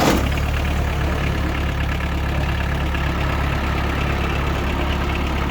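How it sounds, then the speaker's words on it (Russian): A Kubota X20 mini tractor engine runs at a steady idle, a continuous low rumble with even chugging that holds constant throughout, loud and close. "Давайте трактор запускать будем и смотреть, как работает."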